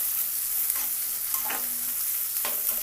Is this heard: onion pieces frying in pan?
yes